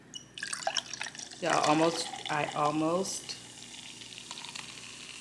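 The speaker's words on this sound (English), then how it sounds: "You hear that? That fizz." Fizzy Olipop Vintage Cola pours into a cup in a couple of bubbling, hissing bursts, close and fairly loud, with a person talking before and over the pour.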